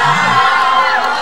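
Crowd cheering and applause at an outdoor Christmas tree lighting in Roja, a dense, continuous roar of voices and whoops, loud and steady throughout.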